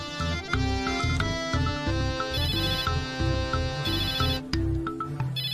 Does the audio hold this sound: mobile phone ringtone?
yes